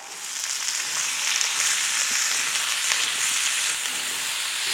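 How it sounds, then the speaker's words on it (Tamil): Ginger, garlic, shallots, tomato, curry leaves and coconut sautéing in a pan, giving a continuous bright sizzle with faint stirring scrapes, close and steady with no talk. "இது எல்லாம் நல்லா வதக்கலாம்."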